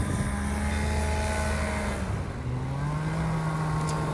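A small bush plane climbs just after takeoff from a strip near San Francisco. Its engine makes a loud, steady droning hum that dips in pitch midway as the power is eased back.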